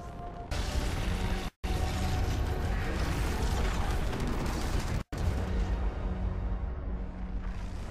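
A building crumbling apart during the Fortnite end-of-season-10 event, with sustained loud mechanical rumbling, creaking and rattling debris, broken by two brief silent cuts.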